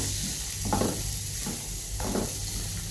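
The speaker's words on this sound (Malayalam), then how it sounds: "ആവശ്യത്തിന് ഫ്രൈ ചെയ്തെടുക്കുക" Beans and capsicum with cauliflower and soybean sizzle steadily in a pan, with two or three scraping stirs of a spatula punctuating the constant frying hiss up close.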